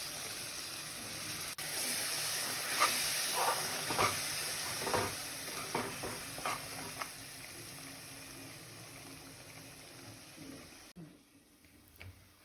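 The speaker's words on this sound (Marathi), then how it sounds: "या मसाल्यामध्ये थोडं अळणी रस्सा मिक्स करूया, म्हणजे त्याचा फ्लेवर येईल त्यात." A spiced masala sizzles in a pan while mutton gravy is stirred in, a steady close frying hiss broken by scraping stirs and clinks that fade toward a quieter end.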